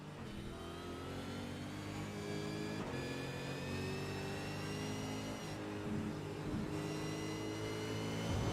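Russell's V8 Supercar racing at Road Atlanta, a steady loud engine note with rising harmonic whine as it accelerates past, sustained throughout without talk.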